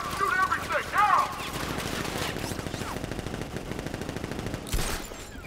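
Gunfire from guards in the video game Batman: Arkham Knight rattles as continuous rapid bursts throughout, loud and dense, with a voice and bright tonal game sounds near the start.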